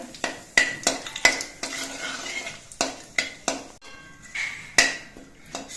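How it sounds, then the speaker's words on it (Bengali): Whole garam masala with cardamom, cinnamon, cloves and cumin frying in a pot, with a soft sizzle under repeated sharp metal clinks and scrapes of a spoon against the pot in an uneven rhythm. "এবার সব কিছু ভেজে নিতে হবে"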